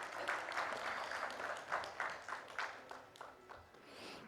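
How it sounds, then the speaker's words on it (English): An audience at a corporate panel discussion on omni-channel customer strategy claps for a panelist being introduced, a soft, fairly distant patter of many hands that rises and falls in uneven bursts. "Can we have a huge round of applause"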